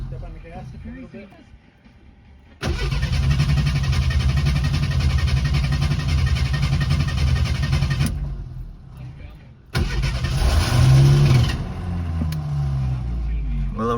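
A Suzuki SX4 engine cranks and catches after fuel is poured in to prime it. It runs loud and rough for several seconds and dies, then fires again briefly before fading, with people talking nearby.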